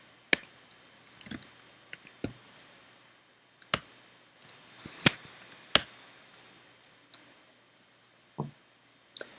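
Typing on a computer keyboard, close and quiet, with irregular bursts of sharp key clicks separated by short pauses.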